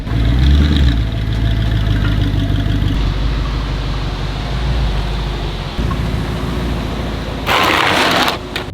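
A crashed Audi R8 engine idles steadily throughout, a continuous low rumble close by with a brief rise near the start and a hiss near the end.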